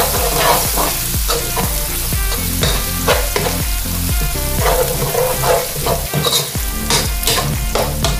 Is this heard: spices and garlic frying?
yes